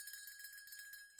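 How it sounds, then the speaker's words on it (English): A bell rings in quick repeated strikes with bright sustained metallic overtones, a cowbell or similar hand bell, fairly faint and heard alone without talk. "it's a cowbell, some kind of bell, but it's a bell indeed"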